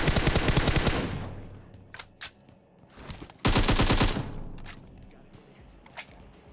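Rapid automatic gunfire from a video game firefight in PUBG Mobile, with loud sustained bursts at the start and middle and scattered single shots and thuds between them.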